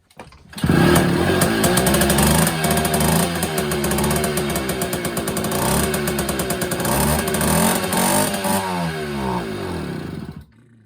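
A small two-stroke engine on an old Verkhovyna 3 moped starts and runs loudly and steadily, with a rattly, buzzing idle and slight rises in revs before it cuts off.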